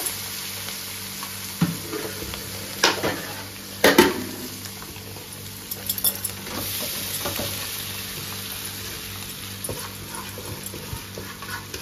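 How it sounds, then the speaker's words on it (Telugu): Flattened rice (poha) with coriander being stirred through in a frying pan for a spicy poha dish, a continuous soft sizzle and hiss broken by a few sharp clinks and scrapes of the utensil against the pan. "అటుకులేసి మిక్స్ చేసుకునేస్తా"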